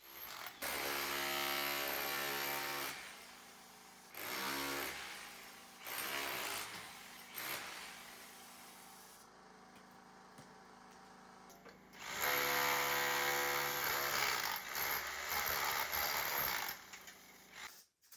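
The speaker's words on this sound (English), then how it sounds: "clearing out some of the stones, mortar and plaster on the main wall" Power tool work clearing stones, mortar and plaster from an old stone wall, with bursts of harsh grinding and drilling that start and stop several times, separated by quieter gaps.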